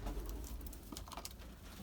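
Domestic pigeons in a loft coo softly, with a few low murmuring calls against steady background noise and no talking.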